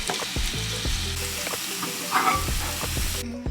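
Mushrooms and peppers frying in olive oil crackle loudly and continuously up close, with a brief bubbling surge midway and a low mechanical drone beneath.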